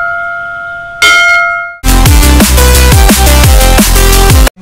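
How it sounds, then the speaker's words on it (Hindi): A large railway station bell at a rail museum rings loudly, with a softer metallic ring first and then a rapid series of bright, resonant clangs whose tones overlap and sustain before an abrupt stop. "जैसे स्टेशन पे घंटा होता है ना, सेम उसी तरह ये भी एक घंटा है, हम इसको भी बजाएंगे"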